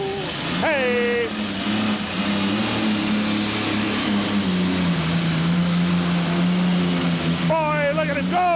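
A tractor puller with a big Allison engine and a homemade rear end roars down the track at a truck and tractor pull. The deep, sustained engine drone fills the clip, with high whistling sweeps near the start and end.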